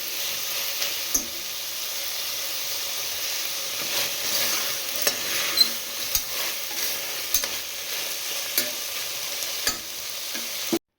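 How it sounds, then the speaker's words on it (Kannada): Potatoes and peas frying in a pan for a mushroom and pea gravy, a steady soft sizzle with occasional light scrapes and clicks of stirring, close up and without talk. "ಈಗ ಆಲೂಗೆಡ್ಡೆ ಮತ್ತು ಬಟಾಣಿನ ಒಟ್ಟಿಗೆ ಹಾಕ್ಕೊಳ್ತೀನಿ. ಅದನ್ನು ಚೆನ್ನಾಗಿ ಮಿಕ್ಸ್ ಮಾಡಿ ಒಂದು ಸ್ವಲ್ಪ ಫ್ರೈ ಆದಮೇಲೆ"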